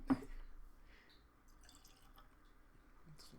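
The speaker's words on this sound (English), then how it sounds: "I'm gonna pour a little bit more" A small extra splash of whiskey goes into a glass, with a brief faint pour followed by a few soft drips in a quiet room.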